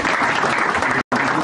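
Turkish engineers behind the Hisar air defence missile get a standing ovation, dense, steady applause filling the room, briefly cut off near the end before resuming.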